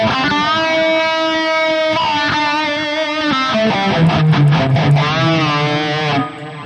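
High-gain electric guitar played through a GP 200 multi-effects unit with a phaser placed before the distortion, sustained distorted chords with sweeping tonal movement, loud and upfront, ending abruptly near the close.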